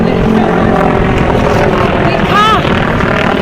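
A loud, steady rotor roar from a helicopter passing close by at Mana village in the Himalayas, mixed with strong wind noise.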